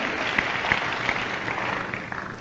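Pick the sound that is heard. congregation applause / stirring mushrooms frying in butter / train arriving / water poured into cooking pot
congregation applause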